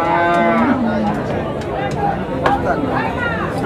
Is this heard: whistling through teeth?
no